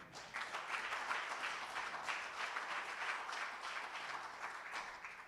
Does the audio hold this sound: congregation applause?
yes